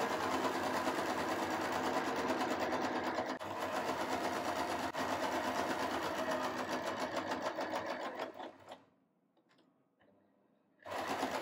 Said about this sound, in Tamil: அடுத்தது நம்ம அப்படியே ஸ்ட்ரெயிட்டாக ஸ்டிச் பண்ணிக்கலாம்.